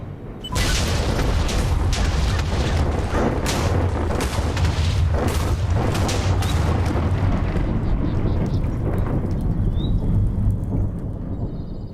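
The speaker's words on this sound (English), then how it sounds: "I brought one of those bombs down into the parasite biome, and then I detonated" A bomb detonated in a post-apocalyptic parasite biome in hardcore Minecraft produces a loud, sustained roaring blast with rumbling booms that continue for about eleven seconds before tapering slightly.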